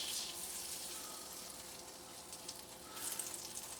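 Butter sizzles in a hot Revere Ware copper pan, a steady faint hiss with a brief louder flare near the end, heard close and alone.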